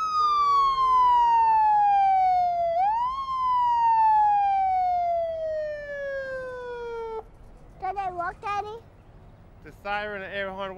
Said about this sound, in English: Siren and air horn works good, Jabril.